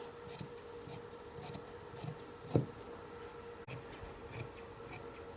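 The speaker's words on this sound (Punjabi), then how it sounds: "ਸਭ ਤੋਂ ਪਹਿਲਾਂ ਅਸੀਂ ਬੈਕ ਵਾਲਾ ਸ਼ੋਲਡਰ ਕੱਟ ਲੈਣਾ ਜੀ" Scissors cut fabric for a kurti, sharp rhythmic snips of the blades repeating about once a second, close and fairly quiet, with no talk.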